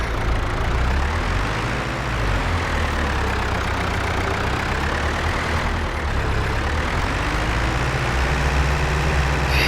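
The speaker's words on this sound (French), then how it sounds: "Il patine un peu le tracteur là." A tractor engine drones steadily and loudly while pulling an oversized plough in a farming video game, its low rumble constant throughout with no talking.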